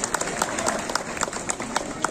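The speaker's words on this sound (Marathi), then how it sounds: "तर जोरदार टाळ्यांचा पाऊस आपण पाडूयात त्यांच्यासाठी" An audience applauds at a memorial tribute event, a steady mid-distance patter of many hands clapping with scattered sharper claps and faint voices underneath.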